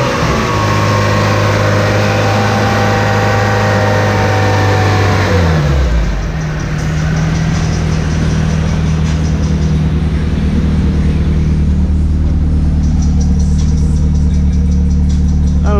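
A turbocharged LS V8 runs on a dyno, revving at first and then settling into a loud, steady, rumbling idle as it warms up, with no talking.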